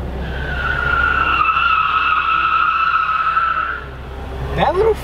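Small four-cylinder car drifts with a sustained, loud tire squeal that holds steady for several seconds before cutting off, followed by a brief voice over the engine.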